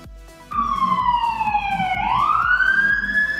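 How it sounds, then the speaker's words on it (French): An emergency siren wails near a street in Mexico, loud and close, its pitch gliding down and then sweeping back up over a low, busy rumble of traffic. "Les ambulances."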